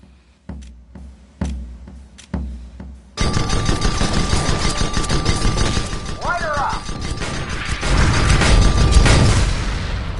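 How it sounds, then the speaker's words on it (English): Gatling gun and mortar fire in the airship game Guns of Icarus: a few sharp separate shots, then a loud, dense, continuous rattle of rapid fire mixed with booms and mechanical clatter. "He's going to get on the Gatling gun to strip the next target's armor. Wait till the armor's down to hit it with the mortar."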